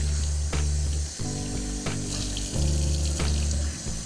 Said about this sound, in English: I'm gonna rinse these potatoes off.